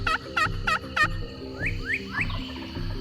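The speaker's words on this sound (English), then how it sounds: "He gobbled back immediately and then went quiet." A wild turkey gobbles during a spring hunt, with a run of four loud rattling gobbles followed by three rising, yelping call notes over a low steady background hum.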